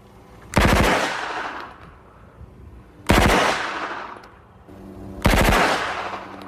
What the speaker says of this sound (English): I will fire two 3-round bursts initially